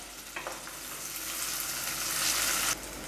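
Peeled, lengthwise-cut garlic and shallots sauté in a pan: a soft sizzle with a few light stirring scrapes early on, the frying swelling louder before cutting off abruptly near the end, with no speech.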